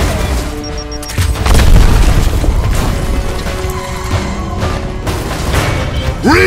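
A frag grenade goes off with a heavy boom in the Gears of War: Ultimate Edition video game, followed by a dense, rumbling wash of battle noise.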